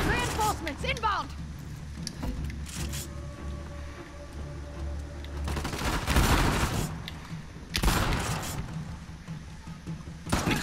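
Gunfire in the video game Uncharted: The Lost Legacy during a train station firefight, with scattered shots and bursts at moderate loudness, two louder volleys near the middle and end, and someone talking at times over the action.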